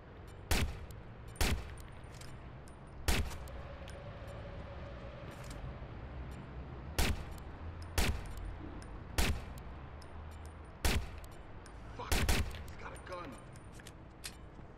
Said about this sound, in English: Somebody's shooting. They're shooting.